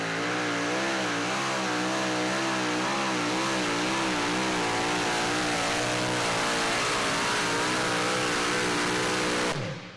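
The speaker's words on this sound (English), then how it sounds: "as he's bringing the truck up on RPMs" A super modified two-wheel-drive pulling truck's engine revs hard and loud at a pulling event, a sustained roaring drone with wavering pitch that holds for nearly ten seconds before cutting off.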